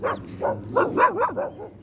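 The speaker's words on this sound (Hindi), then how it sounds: "देखो कैसी भू भू कर रही है" A small puppy barks and yips in a quick series of about six high, whiny barks, close by and clear, with no one talking.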